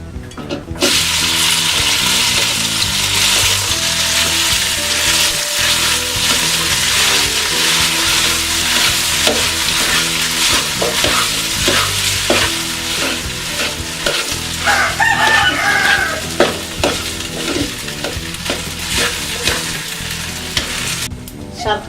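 Wheat sautés in ghee in a heavy uruli for payasam. A loud, continuous sizzle runs with constant rhythmic stirring scrapes, and a rooster crows briefly in the background.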